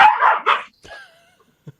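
A dog barks two or three times up close in a loud, quick cluster, followed by a brief whine and a small sound at the end.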